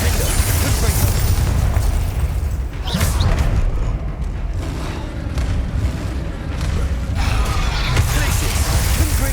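Spell blasts and booms from Hogwarts Legacy combat fire in rapid succession, with repeated bursts and impacts layered over dense game noise.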